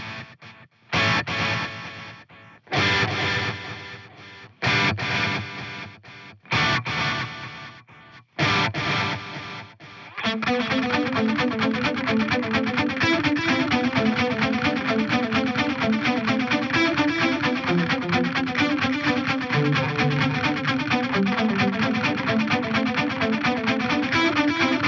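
An electric guitar runs through Strymon DiG and Boss SDE-3000 digital delays, the DiG in 24/96 digital mode and the SDE unfiltered. Short choppy phrases with gaps give way to a sustained, shimmering line of overlapping repeats, with no talking.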